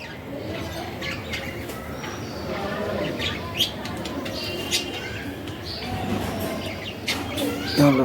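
Pet cockatiels and budgerigars in a home aviary give scattered short chirps and tweets over a steady background, with a few brief wing flutters; the calls are moderate and intermittent rather than continuous.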